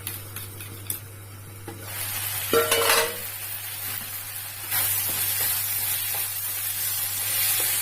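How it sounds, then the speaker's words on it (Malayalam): Curd mixed with a pinch of salt is stirred steadily in a bowl for a potato curd curry, a continuous scraping swish with a brief clink near the middle, fairly close and with no voices. "അതിൽ ഇത്തിരി ഉപ്പിട്ടിട്ട് നന്നായിട്ട് ഇളക്കി മിക്സ് ചെയ്ത് വെക്കാം"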